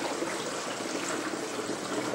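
Water runs steadily from a toilet tank as it refills, a continuous close gurgling trickle without pause.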